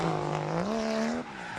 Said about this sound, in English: get a thrill by seeing who can keep their car sideways with tires blazing